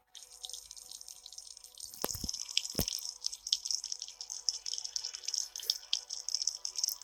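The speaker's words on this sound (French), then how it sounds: "Je prends ma douche." Shower water runs in a video game as a steady hiss of spray with scattered drips and a couple of sharp knocks early on, moderately quiet and continuous.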